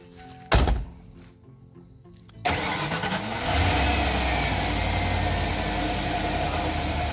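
A 1994 Ford F150 pickup after an oil change: a sharp thunk, then the starter cranks and the engine catches and settles into a steady, close idle that continues to the end with no talk.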